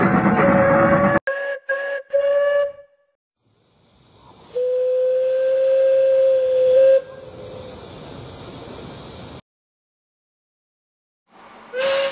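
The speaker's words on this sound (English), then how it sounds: "I hear a whistle." A loud steam whistle sounds several times: short bursts, then long sustained hoots with hissing steam, separated by brief silences.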